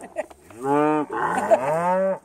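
Cows on a farm, eager for treats, give a loud, drawn-out moo of about two seconds, close by and alone with no talk over it.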